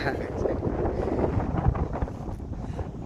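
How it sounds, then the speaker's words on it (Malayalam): Strong wind gusts roar and buffet the microphone outdoors while millet is winnowed, a continuous rough rushing that stays loud throughout. "നല്ല കാറ്റടിക്കുന്നുണ്ട്."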